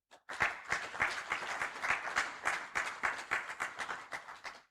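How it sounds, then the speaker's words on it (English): Agricultural extension advisors at a conference applaud themselves in a lively round of clapping, with many distinct hand claps carrying through the hall for several seconds. "I would like all the advisors to give themselves a big round of applause."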